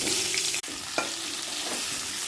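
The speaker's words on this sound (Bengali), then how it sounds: "এবার ওই মাছ ভাজার একই তেলে আমি আলুগুলো" Potato pieces fry in oil already used for frying katla fish, giving a steady close hiss of sizzling with one sharp clack partway through.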